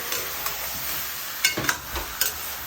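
Meat sizzling in a hot pan while being dried out to render its natural oil for adobong puti, a steady frying hiss with a few sharper crackles and stirring scrapes, close and without talk.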